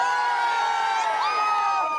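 A raucous crowd cheers and whoops for Bill Clinton at a New Bedford campaign rally, a dense, continuous roar of voices with shrill high-pitched shouts and whistles, loud and sustained throughout.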